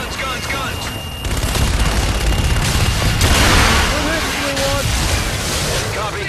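Aircraft gun run in Call of Duty: Infinite Warfare: loud sustained rapid gunfire and booming explosions rolling through a dense battle din, with radio voices talking over it.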